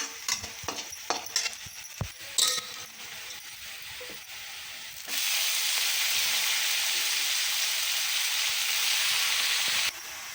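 Cut potatoes and fenugreek drop into a pan of browned onion with a few clinks and scrapes, then a loud, steady sizzle of frying fills the rest of the clip.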